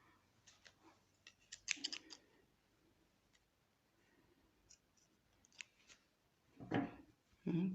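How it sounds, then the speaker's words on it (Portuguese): Regular scissors snipping material while a rug is being made, heard as a few quiet, scattered cuts in an otherwise hushed room, with the sharpest snips near the end. "deixa eu pegar a tesoura normal."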